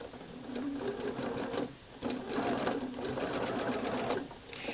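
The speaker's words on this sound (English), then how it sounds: "And now I'm going to sew this one." A sewing machine stitches a quilt square set on the diagonal, its needle chattering in a fast steady rhythm with two brief slowdowns, close and fairly quiet.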